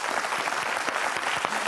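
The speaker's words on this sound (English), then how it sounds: "A round of applause to Leader number 2 and Leader number 4." A crowd applauds contestants at a leadership competition, a dense, even patter of many clapping hands held at moderate loudness across the whole short stretch.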